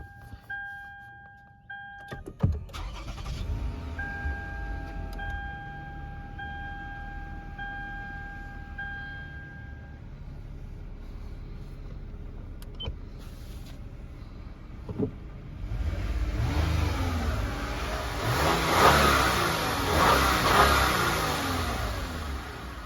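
A 2010 Lexus ES350 engine starts with a short crank and settles into a quiet, steady idle amid faint chimes, then swells with louder running noise as it pulls away.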